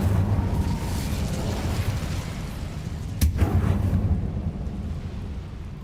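Incendio fire spell cast in the Hogwarts Legacy video game, heard as a rumbling whoosh with a sharp crackling burst midway, over a steady low background roar.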